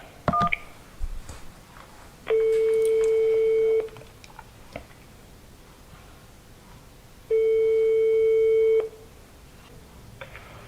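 Telephone line tones on a recorded phone call to a French boxing federation: a quick burst of dial tones, then two long steady beeps about five seconds apart, clear and loud over a quiet line.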